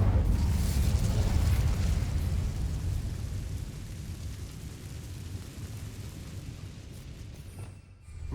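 A deep, roaring whoosh of fire from the Incendio spell in the game Hogwarts Legacy, heavy and sustained at first, then thinning out before a brief swell at the end.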